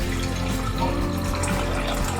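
Water from a glass pours into a pan on a gas stove, a steady continuous splash and rush close by throughout, with no talk.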